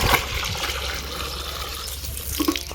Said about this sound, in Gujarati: ફાઇનલી મિત્રો આપણે ઢોરો પાવાનું ચાલુ કરી નાખ્યું છે